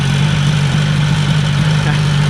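A Ski-Doo Elan 250 twin snowmobile engine idles steadily nearby, a constant low droning hum with no revving.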